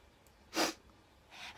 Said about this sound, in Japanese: 君が君がくしゃみしたね。